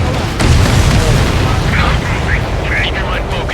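A missile blast in the Ace Combat 7 flight combat game: a sustained low boom rolls under steady jet engine roar with radio-style chatter, and faint chirping tones appear toward the end.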